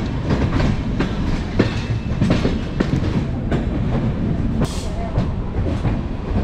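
The Chozhan SF Express rolls out of Chennai Egmore with steady rumbling carriage noise and rhythmic clickety-clack of wheels over rail joints, heard close from inside the train throughout.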